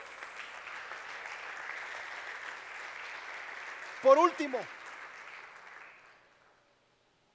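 A church congregation applauds steadily for several seconds before the clapping fades out; a voice speaks briefly over it partway through.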